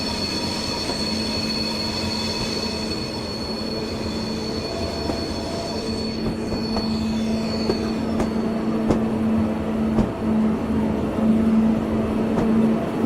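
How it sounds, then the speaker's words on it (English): Train wheel flange squeal in Train Simulator on the Woodhead line, a sustained high-pitched whine over the steady rumble of rolling rail wagons, with clicking rail joints later on. "This is flange squeal."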